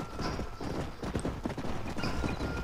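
Horse hooves clip-clopping in the Red Dead Redemption video game, a busy run of hoof beats at a trot over loud game ambience, with brief higher sounds above.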